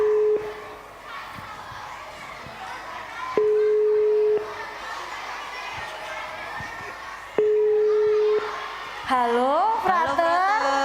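Outgoing call tones on a phone, steady beeps repeating at intervals of several seconds over a murmuring crowd of children and adults at an evening church gathering, followed by a warbling connection chirp.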